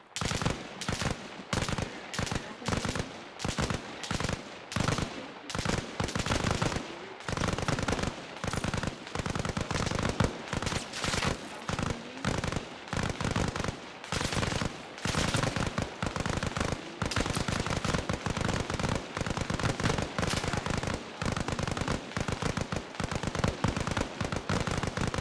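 Sustained automatic gunfire in the military shooter game Arma Reforger, dense rapid bursts with brief pauses, loud and close throughout.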